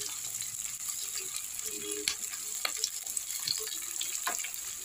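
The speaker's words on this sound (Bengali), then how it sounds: "এগুলো একটুখানি ভেজে নিয়ে দাও।" Onions and green chillies frying in a pan for a jackfruit curry, with a steady hiss of sizzling oil and scattered sharp crackles and spatters, moderately close, running throughout with no talk.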